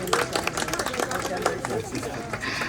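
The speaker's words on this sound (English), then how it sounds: "let's give our amazing marine mammal trainers a big, nice round of applause" An audience at a marine mammal show, likely at an aquarium, applauds the trainers with a faint, steady patter of clapping and crowd murmur.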